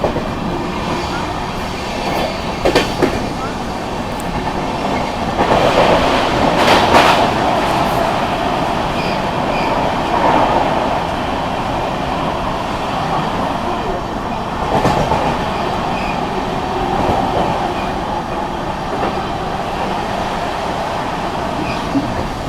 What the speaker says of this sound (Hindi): Vikramshila express skipping Mirzapur.